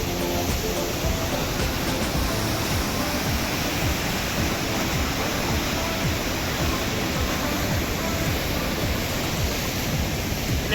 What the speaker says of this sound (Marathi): खूप जोरात पाणी मित्रांनो.